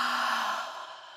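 A woman's close, breathy yawn from the video game Mirror Mirror, one long exhale sounding right in the ear and slowly fading away.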